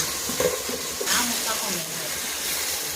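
Tomatoes frying in oil in a pan, a close, steady sizzle broken by stirring scrapes and faint spatters, with a voice talking briefly over it.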